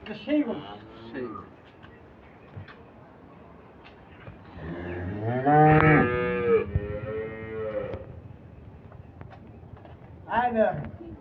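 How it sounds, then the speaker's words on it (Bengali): A milking cow, a black crossbred dairy animal giving fourteen to fifteen litres, lets out several loud, drawn-out moos close by, with people talking in between. "এটা সেই গরু"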